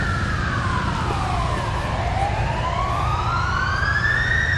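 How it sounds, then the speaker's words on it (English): A fire engine siren wails in sweeping rising and falling tones as it travels along a nearby country road, loud and continuous over a steady rumble of wind or traffic. "That has to be Ripon Road along there with the fire engine going."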